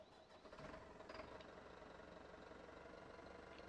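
The engine of a Manitou telehandler from a modded farming video game starts and settles into a steady, droning mechanical idle with a low rumble that holds evenly throughout.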